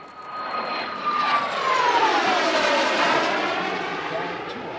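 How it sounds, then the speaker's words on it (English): An ex-US Air Force C-20 Gulfstream III business jet passes overhead at an airshow, its engine roar swelling and holding loud with a falling whine as it flies by. "In the lead, an ex-US Air Force C-20, basically a Gulfstream 3."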